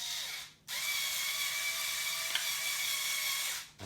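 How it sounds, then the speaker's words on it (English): An M4 thread starter cutting a thread, driven by a small power tool: a high-pitched whirring run that starts, holds steady for about three seconds with a faint click midway, then cuts off abruptly. "I will use my M4 thread starter."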